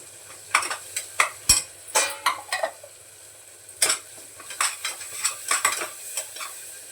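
Homemade ground masala paste of dry red chillies and peanuts, stir-fried in a pan for a whole tur dal amti, with irregular scraping spoon strokes and a soft sizzle close up, no talking.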